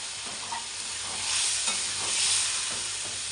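Fish curry masala sizzles and fries in hot oil with Kashmiri chili powder and a splash of water while being stirred, a steady close hiss that swells midway through.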